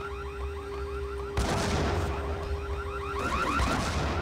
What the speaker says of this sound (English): chuck a grenade in this area.